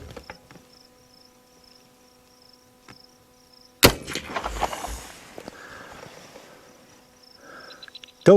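A single sharp rifle shot from a Winchester fired over a chronograph outdoors, a loud crack with a brief rumbling tail, set against steady chirping crickets and faint footsteps.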